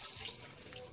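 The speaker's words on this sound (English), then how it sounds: "Wash your hands." Tap water running steadily into a sink while hands are washed, a brief, fairly faint and continuous splashing flow with no voices over it.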